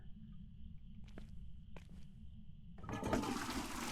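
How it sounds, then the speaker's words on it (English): Toilet flush in the Phasmophobia ghost-hunting game, set in a farmhouse bathroom: quiet room tone and a couple of soft clicks, then the water rushes in loudly and keeps swirling to the end. "Flush the toilet in case Ghosty forgot."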